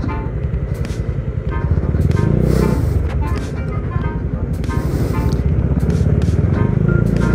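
Yamaha Mio Sporty automatic scooter-style motorcycle engine running steadily while riding in Iba, Zambales, a continuous close drone with wind rush and a brief swell in the middle.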